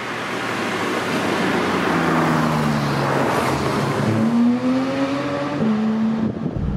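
Porsche 991.2 GT3 RS flat-six engine howling at high revs, with rising and falling harmonic tones as it climbs through the gears and shifts, loud and close throughout.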